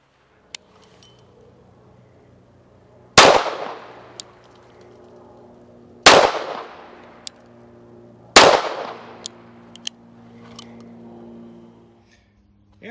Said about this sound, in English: Next, I'll try 3 shots from 15 yards.